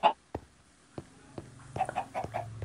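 Chickens clucking in the Minecraft video game, a series of short, clipped game clucks spread irregularly across a couple of seconds, clustering more densely toward the end, fairly close and clear with no talking.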